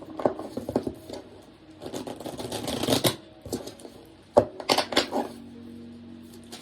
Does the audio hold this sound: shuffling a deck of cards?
yes